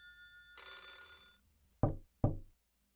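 A video-game telephone rings in one short burst of bright metallic trilling, then stops. Two sharp knocks follow close together in the otherwise quiet scene, with no voices.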